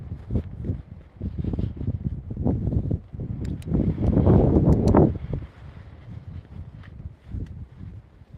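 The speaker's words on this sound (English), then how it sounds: "Yeah, quite stormy out here tonight. Wind and rain." Gusty wind buffets the microphone in uneven bursts outdoors at night in a stormy village in Hadlow, Kent, England, swelling to a loud rush midway before easing off, with no talking.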